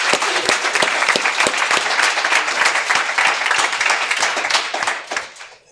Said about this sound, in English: We'll give a round of applause for that.